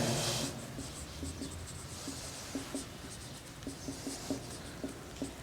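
Pen or chalk writing during a Class 12 chemistry lesson on chemical kinetics: soft, scratchy strokes and light taps repeat in short irregular bursts, close by, with no talk.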